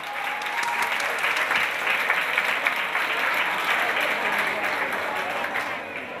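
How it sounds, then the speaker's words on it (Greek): Sustained, dense applause from an audience at a dance school's stage show, steady and fairly loud throughout with a crowd murmur underneath, tapering slightly at the very end. "Δυνατό χειροκρότημα!"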